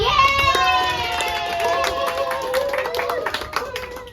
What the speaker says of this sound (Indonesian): Diberi tepukan dong.